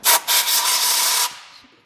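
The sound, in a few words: reverse drill bit drilling into a manifold stud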